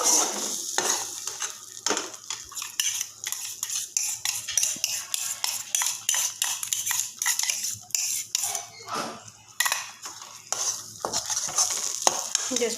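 Cashews and onions fry in a pan and are stirred continuously, making a dense hiss of sizzling oil with rhythmic utensil scrapes and clinks against the metal, close and fairly loud.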